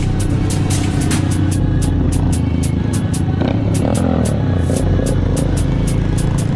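A car rumbles by close outside, a loud sustained engine drone with steady low-frequency hum and rhythmic ticking overtones, the noise continuous throughout with no talking heard over it.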